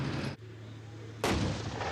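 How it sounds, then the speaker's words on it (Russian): A tank cannon fires twice in a military tank competition, with a loud booming blast, a short lull full of rumbling decay, and then a second heavy shot close by. "Палит из пушки наводчик-оператор из Анголы"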